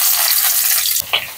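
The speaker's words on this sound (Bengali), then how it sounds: "এই তেলে আমি ফুলকপি কটা ভেজে নেব।" Cauliflower pieces fry in hot oil left over from frying fish in a wok, giving a loud, close, steady hissing sizzle that cuts off after about a second, followed by a brief clatter and softer sizzling.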